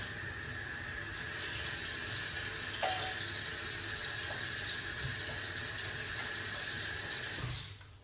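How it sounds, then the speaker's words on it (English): Water runs steadily from a kitchen tap while moringa leaves are rinsed under it, a close, even hiss that stops near the end. "So you can hear the water. I just wash them off."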